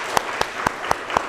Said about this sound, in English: Did you give him a good clap?